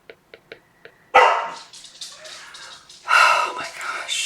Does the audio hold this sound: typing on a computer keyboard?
no